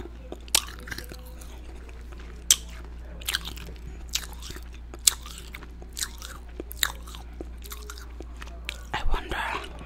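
Crisp bites and crunches of a homemade, vegan, caramel-flavored apple candy, close and intimate, with sharp cracks spaced a second or two apart over a quiet background and a denser crunching burst near the end.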